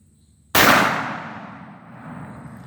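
A single loud, close revolver shot from a Taurus Raging Judge Magnum firing .45 Long Colt reloads, a sharp blast that rings and decays over about two seconds outdoors.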